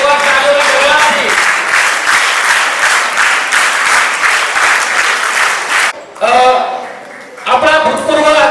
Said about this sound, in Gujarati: એક વાર તાળીઓના ગગડાથી